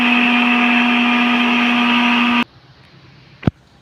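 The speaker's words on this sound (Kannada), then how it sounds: "ಇವಕ್ಕೆ ಹಸಿಮೆಣಸಿಗೆ ಹಾಕೊಂಡು ಸ್ವಲ್ಪ ನೀರು ಹಾಕೋಣ. ನೀರು ಹಾಕೊಂಡು ಇನ್ನಷ್ಟು ರುಬ್ಬಕ್ಕೆ ಸ್ಟಾರ್ಟ್ ಮಾಡೋದು" A mixer grinder whirs loud and steady as it blends green chillies with a little water, then cuts off abruptly and is followed by one sharp clack.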